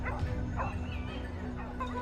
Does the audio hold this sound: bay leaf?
no